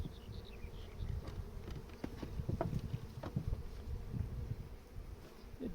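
Honey bees swarm around an opened beehive while a super is being added, giving a dense, close, continuous buzzing drone with scattered louder passes of individual bees and faint handling noises.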